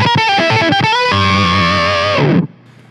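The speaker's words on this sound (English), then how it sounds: "You turn on the fuzz and it gets a little crazy." Electric guitar through a Pigtronix Disnortion pedal set to octave with fuzz, a loud, close, gritty burst of picked notes ending in a held, buzzing chord that cuts off abruptly, with no talking.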